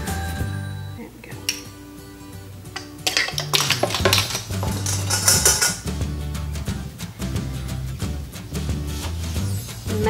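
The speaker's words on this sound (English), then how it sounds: "And you mix these until they're just blended." Pumpkin pancake batter is mixed in a bowl, with a utensil clinking and scraping against the sides in quick, irregular knocks, close and fairly loud, over a soft tonal background.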